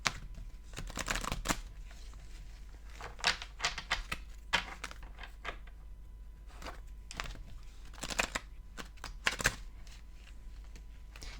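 Playing cards being shuffled by hand in short crisp riffling bursts, several separate shuffles with quiet pauses between them, close and fairly soft.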